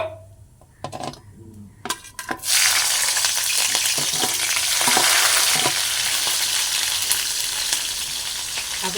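Cinnamon pieces and green chillies fry in a hot pan for rice, beginning with a few sharp clinks and spatula scrapes before a loud, steady sizzle takes over and holds to the end.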